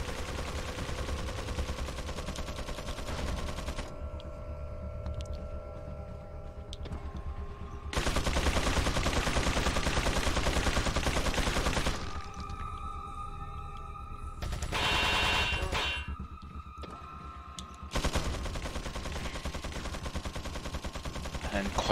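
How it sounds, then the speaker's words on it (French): Machine-gun fire in the video game Resident Evil 4, with long, dense bursts of rapid shots that alternate with quieter stretches of game sound, loud and continuous. "Incroyable, un zombie qui me tire dessus les gars."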